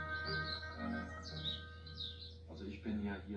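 Several birds call and chirp at a distance over a low steady hum in Germany, where more than 10,000 birds gather, with a few short tweets scattered through.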